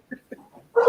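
A dog gives a few short, muffled woofs and whimpers, quiet and close, followed by a louder, longer bark-like burst at the end.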